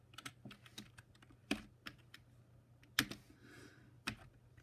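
Keys clatter on a Mac computer keyboard as a command is entered in Terminal, with irregular bursts of close, quiet keystrokes and a few sharper taps in an otherwise hushed room.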